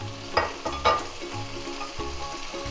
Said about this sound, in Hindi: हम सिर्फ 2 मिनट के लिए इनको फ्राई करेंगे